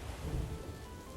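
A storm sound effect of steady rain with low thunder rumbling underneath, heard as a continuous wash of noise at sea during a fantasy tabletop adventure, with no talking.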